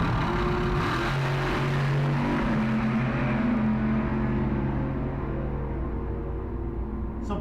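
Nostalgia Eliminator drag race cars roar down the strip at a car cruise night, a loud sustained engine drone with shifting pitch that slowly fades as they pull away.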